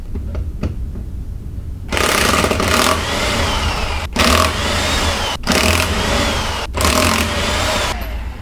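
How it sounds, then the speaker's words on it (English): A Chicago Electric electric impact wrench removing a wheel from a 2002 Toyota RAV4 during a rear wheel bearing and axle job, loud bursts of rattling hammering separated by brief pauses, close and without talk. "The electric impact wrench is really good. It's a Chicago electric"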